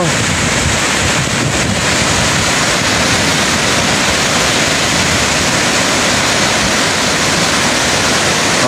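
Tamaraw Falls in Puerto Galera roars as a constant, dense rush of falling water, loud and close, with a faint trace of wind buffeting the microphone.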